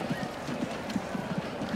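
Horses clip-clop steadily in the Transport Fever city-building game, with a quick run of hoof beats and the odd whinny set against a low hum of background ambience.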